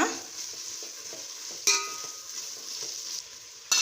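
Green chilies sauté in a pan for ghee rice, with a thin frying hiss under a few sharp spatula scrapes and clicks against the pan, fairly close and without any talk.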